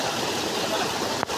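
Water flows in a stream at a small dam, a steady, even rushing wash, close and uninterrupted, with a single brief tap near the end.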